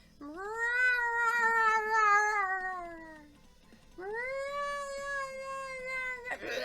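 Granite, a pet cat, lets out two long, drawn-out wailing yowls, each sustained for a few seconds with a short pause between, loud and close with no talking.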